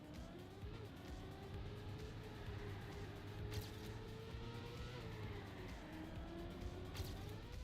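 A car drifting in the Trackmania video game, with a steady engine drone and a sliding tire whine held at an even level throughout, no talking.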